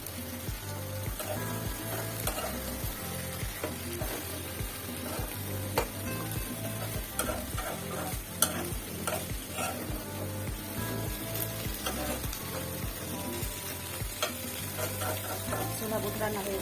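Chickpeas being stirred and fried in a pan for an iftar dish, a continuous sizzle with repeated scraping strokes of a spoon at a steady rhythm, close and fairly loud throughout.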